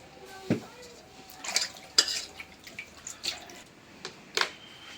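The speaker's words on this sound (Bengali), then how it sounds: "চুলার জালটা ধরাই নিলাম, তরকারি কড়াইটা বসাই দেই।" A curry kadai is set down on a lit stove, giving close metallic clanks and scrapes of pots and utensils in several short bursts, with faint voices in the background.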